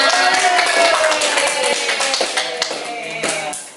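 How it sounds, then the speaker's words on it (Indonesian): A small group claps in scattered, uneven bursts during a teacher training session on positive school culture, with voices and other tones mixed in underneath. "tepuk tangan untuk kita semua"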